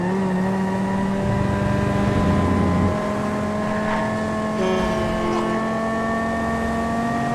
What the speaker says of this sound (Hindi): बहुत ही स्मूथ गाड़ी है और इसकी आवाज़ बड़ी प्यारी है